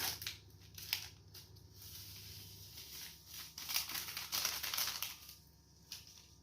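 Close, quiet crinkling and tearing of small paper packets of vanilla sugar, followed by light rustling and pattering as the sugar pours out.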